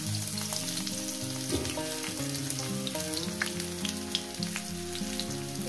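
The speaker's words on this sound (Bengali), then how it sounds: "তেলটা আমার গরম হয়ে গেছে। দিয়ে দেবো এখানে পেঁয়াজ কুচি" Chopped onion frying in hot oil in a wok, a steady close sizzle with a melodic tune playing underneath throughout.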